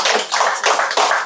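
A church congregation claps in rhythm, four loud bursts of many hands spaced evenly and close to the microphone.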